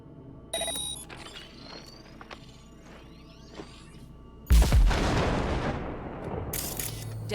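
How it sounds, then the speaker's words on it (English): A grenade detonates in the Cyberpunk 2077 game: a sudden loud burst of blast noise rolls on for seconds after quieter game sounds and whooshes, with no talking. "Detonate the grenade."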